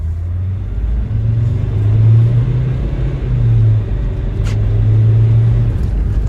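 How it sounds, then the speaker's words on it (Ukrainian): A SsangYong Rexton SUV pulls away and accelerates, its engine a steady low rumble that swells and eases through gear changes, heard close with no talk. "Зараз розвернемося, попробуємо трошки натиснути педалю, щоб зрозуміти її динаміку."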